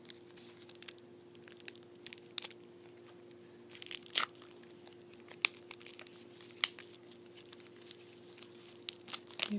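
A package is opened up close, with soft, irregular crinkling and tearing of plastic wrapping and a few louder crackles in between. It is quiet and intimate, with no voice.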